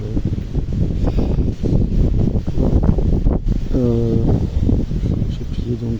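Gusty wind blows through an orchard of trained plum, apricot and pear trees, a rough, rumbling rush with microphone buffeting, while someone talks over it and a brief tonal sound rises midway.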